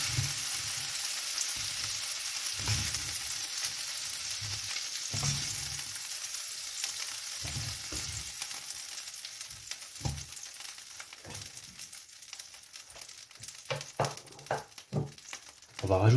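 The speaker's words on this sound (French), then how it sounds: "Et là, on va les faire sauter 2 minutes." Chicken and shrimp sautéing in a pan for paella, a continuous sizzle and crackle with repeated scraping stirs, close and fairly loud, with a voice speaking at times.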